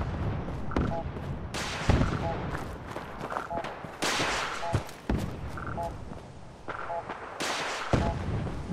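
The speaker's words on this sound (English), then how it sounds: "It's all that explosions." Explosions and gunfire in the video game Fallout 4, a string of heavy booming blasts roughly every second or two, with crackling shots and a constant croaking ambience between them.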